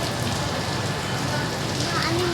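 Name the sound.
heavy rain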